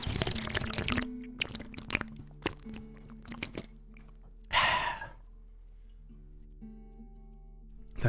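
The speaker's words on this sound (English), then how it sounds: "Protect your ears if you don't want to hear a slurp because it's coming." Arizona green tea slurped close to the mic: a burst of crunchy, wet mouth noise early on, then scattered clicks and a second long, loud slurp midway, trailing into quiet hum.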